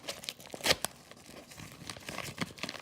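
A shipping package containing a poured silver bar is cut open close up, with sharp crinkling and tearing of plastic and cardboard in quick irregular bursts, quiet overall.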